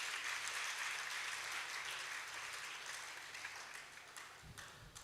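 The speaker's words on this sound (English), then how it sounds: "Please clap for Dr. Adebayo." Sustained audience applause at a valedictory lecture for Dr. N. A. Adebayo at The Polytechnic, Ibadan, a dense, steady wash of clapping that slowly thins and softens toward the end.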